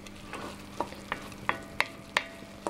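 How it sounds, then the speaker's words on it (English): Risotto for a pea and mint dish stirred in a pan, with soft scraping strokes and sharper spoon clicks against the pan recurring every fraction of a second over a low simmering background, close and fairly quiet. "So just continue stirring, agitating that, releasing the starch."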